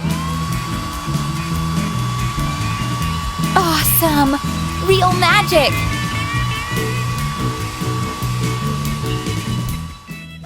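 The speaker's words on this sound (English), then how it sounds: "I'll need a blow dryer for that." A blow dryer runs with a loud, steady whine while melting crayon shavings in a pendant base, the motor tone holding throughout as a voice briefly exclaims over it before it cuts off.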